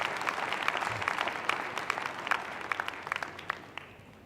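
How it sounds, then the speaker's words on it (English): An audience at the opening of a Black Industrialists and Exporters Conference applauds with a moderate wash of clapping that thins and fades into scattered sharper claps toward the end. "Round of applause, ladies and gentlemen."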